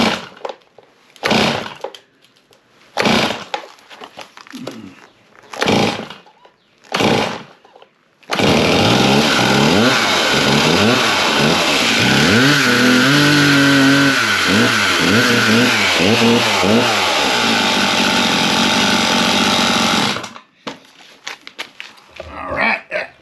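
A chainsaw in a repair shop fires after a few pulls, then runs loud and close for about twelve seconds with repeated rising and falling revs before cutting off, with more rustling and handling afterward.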